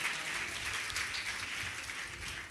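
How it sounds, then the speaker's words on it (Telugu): A church congregation clapping in praise, a dense and steady wash of applause from many hands that continues for the whole short stretch without a voice over it. "చప్పట్లు కూడా ప్రభు నామాన్ని మహిమ చెల్లేద్దాం"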